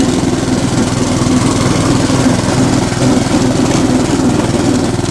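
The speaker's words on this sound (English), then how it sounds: "Yeah, hydrostatic transmission's a little cold too. It's whining at me." A Honda riding mower runs steadily at close range with its blades disengaged, a loud continuous engine drone mixed with the whine of its cold hydrostatic transmission, no voices.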